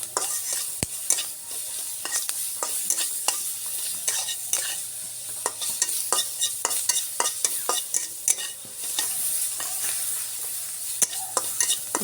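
Green chillies fry in hot oil with continuous crackling sizzle, while a utensil scrapes and taps the pan in a quick, repeated stirring rhythm.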